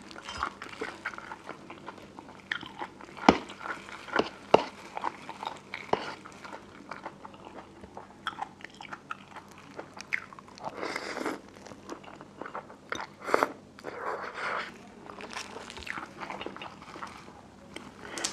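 Someone biting and chewing crisp bitter gourd, with sharp, irregular crunches and softer munching scattered through a quiet room, fairly close, plus occasional light background clatter.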